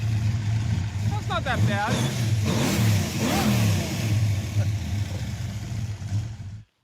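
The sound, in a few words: crop duster street machine car engine revving through exhaust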